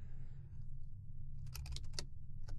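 Several quick key clicks on a computer keyboard while writing Objective-C code, a short burst of taps over a steady low hum, with the first second mostly quiet.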